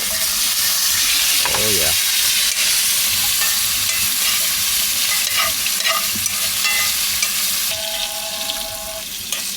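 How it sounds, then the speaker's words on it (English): Steak frying in a pan with garlic inside a van on a camp stove, a loud close sizzle that runs throughout with occasional scrapes and clinks, and a brief voice partway through. "I'm going to toss in my garlic. That's fine. Let's flip this steak real quick."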